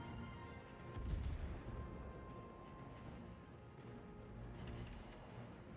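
Heavy naval guns boom from the Scharnhorst in World of Warships as it chases an Iowa. Deep, rumbling blasts rise near the start and again toward the end over a steady low battle drone, with no voices.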